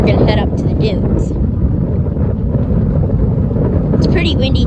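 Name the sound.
wind blowing at the beach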